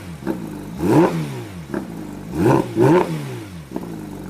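Porsche GT3 RS flat-six 4-litre engine with stock exhaust revving hard in repeated sharp blips, climbing and falling in pitch, loud and close, with no talking over it.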